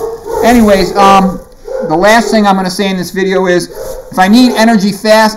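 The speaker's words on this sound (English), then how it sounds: "Oh, sorry about the dogs." Dogs bark in the background of a home, their barking mixed under a person's steady, close talking.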